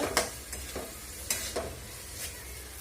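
Onion browns in a pan over full flame with a faint, even sizzle, while several light scrapes of stirring come at irregular intervals.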